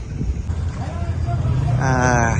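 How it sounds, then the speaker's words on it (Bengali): Day-trip trawler boats on tidal water in the Sundarbans, an engine rumble and wind noise throughout, growing steadier and louder near the end, with people talking over it. "এগুলো হচ্ছে এই ডে ট্রিপ করার ট্রলার সব"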